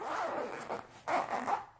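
Someone opens the zipper on a Southwire tool pouch hanging on an HVAC maintenance bag, giving a few short, close ratcheting zip pulls in quick bursts with no talk.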